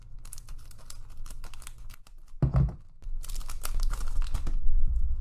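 A Pokemon booster pack wrapper is torn open, with crinkling foil rustles, a sharp ripping burst near the middle and more crinkly handling afterward, all loud and close.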